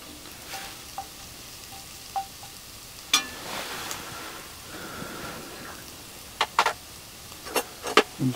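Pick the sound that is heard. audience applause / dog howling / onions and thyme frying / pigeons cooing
onions and thyme frying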